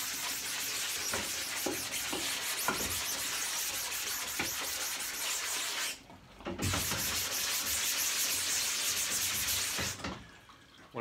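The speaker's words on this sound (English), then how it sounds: "When I scrub the backside" The back of a screen-printing screen is scrubbed with a brush over water, giving a loud, steady rasping swish close by. It cuts out briefly twice, then resumes, with no talking.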